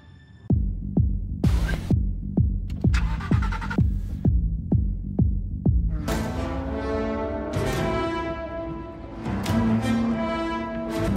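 Porsche 911 GT3 sports car on a race track, engine revving in a string of sharp rising pulls with quick gear changes, then a sustained loud high-revving run, heard close and alone.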